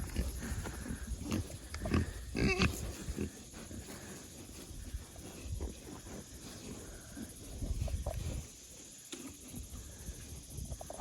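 Pigs grunt and snuffle in a pond area on a farm, giving short irregular oinks at close range over a low outdoor background. Faint rustling and splashy movement come and go between the grunts.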